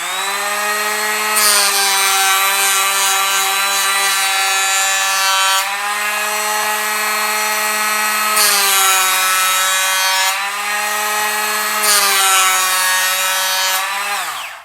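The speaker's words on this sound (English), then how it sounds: "see how the planer takes to it." A Bosch GHO 12V cordless planer cuts across oak at a shallow depth, a loud, sustained high-pitched whine with a gritty shaving rasp, broken by brief dips between four steady passes.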